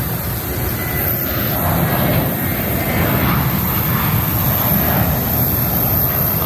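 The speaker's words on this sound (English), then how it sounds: "That's the British Airways flight back to Heathrow." British Airways jet airliner engines at an airport, a steady loud roar and rumble with a faint high whine, heard close by on the apron without talk.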